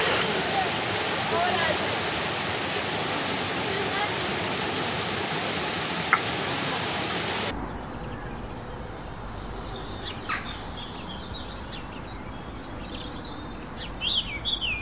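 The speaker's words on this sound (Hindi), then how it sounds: "ये देखिए ये फेमस है यहाँ का वाटरफॉल।" A famous waterfall at Mahabaleshwar pours steadily as a loud, broad rushing roar, then the wash drops and grows quieter and more distant while birds chirp faintly in the background.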